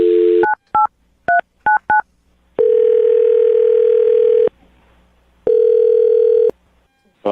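A telephone dial tone plays briefly, then a quick run of DTMF keypad beeps as a number is dialed, followed by long, steady ringback tones separated by a pause.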